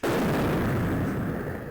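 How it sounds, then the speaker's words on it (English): A loud, sustained explosion in the video game Snatcher erupts suddenly, a heavy rumbling blast that slowly fades over under two seconds. "Cool guys jump from explosions."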